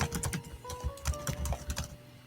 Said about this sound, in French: t'as un très beau clavier d'ASM